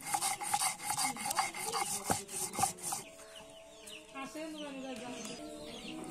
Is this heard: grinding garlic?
yes